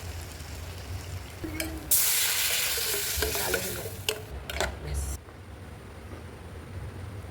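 Bay leaves, cumin, dried chillies, cardamom and cloves hit hot oil and give a loud burst of sizzling and spattering near the pan, fading to a quieter simmer toward the end.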